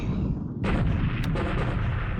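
Anti-aircraft flak firing in the WWII naval strategy game War in the Pacific: Admiral Edition, a dense rumble of rapid booming bursts that swells loud partway through and keeps pounding without a break.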